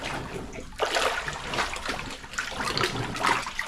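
Water swished around inside a dark tunnel beneath a city, a continuous close sloshing and splashing that swells and surges in irregular waves, with no talking.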